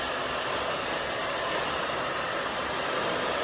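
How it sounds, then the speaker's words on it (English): A blow dryer runs steadily at close range, heating hair color sealed inside a grocery bag through a hole cut in its back, giving a continuous, even rushing whoosh with no breaks for several seconds. "Now, I'm going to take this blow dryer,"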